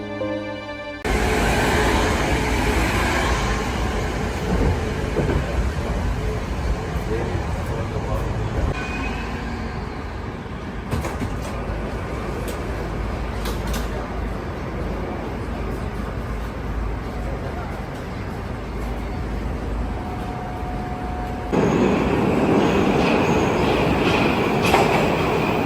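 A crowded metro train in Russia rumbles steadily along the rails with a loud, continuous roar, faint wheel squeals and a brief tonal whine. People talk under the noise, and it grows louder near the end.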